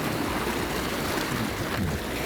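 CityCoco Connect 2 all-wheel-drive electric scooter moving through river water, a continuous close wash of rushing, splashing water with no voices.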